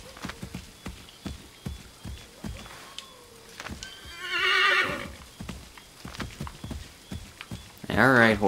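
In the video game Assassin's Creed III, a horse's hooves clop steadily, then a loud whinny rises, and another neigh follows near the end, with someone talking quietly in between.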